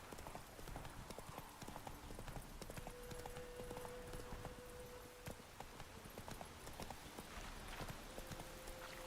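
Galloping horse hooves from The Witcher video game, a steady run of clip-clop beats with an occasional whinny, heard over faint background game ambience and light talk.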